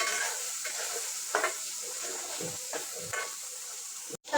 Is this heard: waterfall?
no